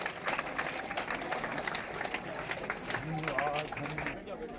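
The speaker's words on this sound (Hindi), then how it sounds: "जोरदार तालियों से स्वागत हो जाए हमारे अतिथि महोदय का" Audience applause welcoming a guest at a school baseball competition event, a brief, moderately faint patter of clapping mixed with crowd noise and a voice speaking over it.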